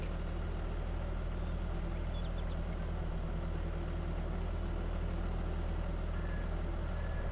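A tractor engine idles steadily in a farming video game, a continuous low rumble with an even mechanical drone that holds at a constant level throughout, with no talk over it.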